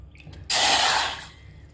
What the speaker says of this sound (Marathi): इथं मी 4 कप पाणी घातलेलं आहे.